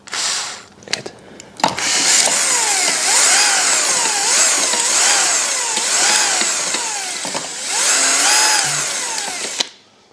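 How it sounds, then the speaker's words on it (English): A power drill runs steadily, boring sand out of an electric unicycle during a teardown, its whine rising and falling in repeated cycles after a few short bursts, close and loud throughout. "I just used a drill, try to drill out the sand that is in there."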